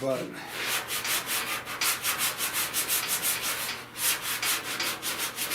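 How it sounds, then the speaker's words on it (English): Hand sanding on the fender of a 1970 Buick Wildcat during auto restoration, with close, loud back-and-forth strokes in a steady, even rhythm that continues throughout. "I'm going to just take my time here and sand this."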